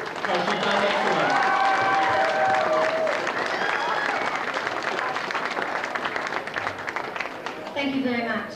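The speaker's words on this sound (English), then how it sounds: "So I think we need to give Maria Webb another clap, because she's done excellent." Audience applause at a 2002 debutante ball for Maria Webb, a dense wash of clapping with cheering and excited voices mixed in, staying strong before fading slightly.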